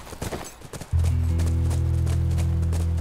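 Horse hooves clip-clop in The Last of Us video game, a few quick irregular footfalls that give way to a loud sustained low hum of game ambience.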